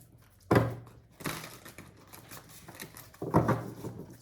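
Tarot cards from a Crystal Ally deck are shuffled in a few separate bursts of crisp papery riffling and soft tapping, each pause short, in a quiet room.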